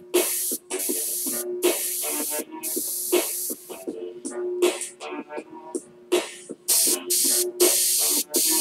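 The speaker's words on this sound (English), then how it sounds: "So invest in a decent airbrush." An airbrush sprays paint in quick repeated hissing bursts of varied length, with brief gaps between them, close and fairly loud.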